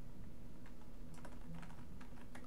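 Typing on a wireless computer keyboard: quiet, irregular clusters of key clicks over a soft steady background hum, with no talk.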